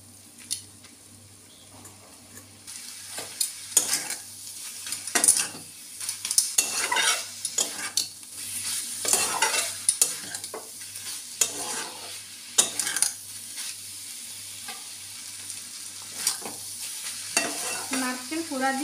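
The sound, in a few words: stirring and frying ridge gourd with grated coconut in a pan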